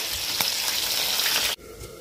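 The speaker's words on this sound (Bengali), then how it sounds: "তো ততক্ষণে মাছটা ভালোভাবে ভাজা হয়ে যাক" Fish frying in oil in a pan gives a dense, continuous sizzle close by, with faint stirring sounds, dropping abruptly to a quieter, thinner sizzle near the end.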